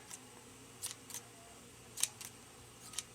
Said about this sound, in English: you're going to want to cut off just a little bit of the tassels